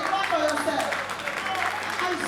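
A crowd at a victory party claps steadily, the dense applause carrying on beneath a voice and some cheering throughout.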